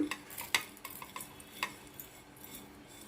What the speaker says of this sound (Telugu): వీటిని ఒక 30 సెకండ్స్ అలా ఫ్రై చేసి ఒక ప్లేట్లోకి తీసుకోవాలి